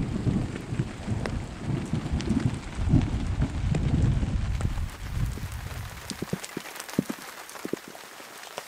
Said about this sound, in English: Great little storm there.